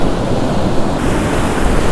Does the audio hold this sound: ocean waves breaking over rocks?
yes